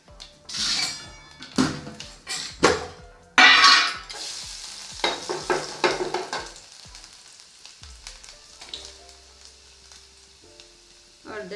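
Chopped onion hitting a hot cumin tempering in a pan, with loud bursts of sizzling and frying, spoon stirring and clattering against the pot, then settling into a quieter steady sizzle.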